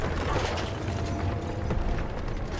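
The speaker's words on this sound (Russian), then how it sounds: "Перезаряжаю! Снаряд в казённике!" Heavy mechanical clanking and rumbling of a tank gun being reloaded with a shell in Call of Duty: WW2, dense and loud with metallic knocks over a low rumble.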